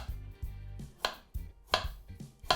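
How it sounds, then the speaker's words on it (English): A knife slices a trimmed radish into thin rings on a cutting board, giving a series of crisp, separate chops spaced irregularly, close and fairly quiet with no talk. "I'm going to get the radish, just trim that there, and then again I just want thin rings"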